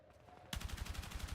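Gunfire from a sniper in a video game cracks in after a quiet moment as a rapid, loud, steady stream of shots that sounds close and carries on to the end.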